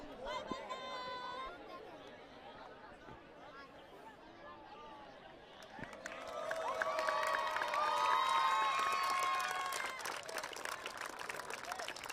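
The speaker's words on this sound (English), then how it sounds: "A round of applause from the India players" India rugby players applaud at an Asia Rugby match against Bangladesh in Calcutta, scattered clapping and cheering from a distance that swells midway, with a voice talking over the crowd noise.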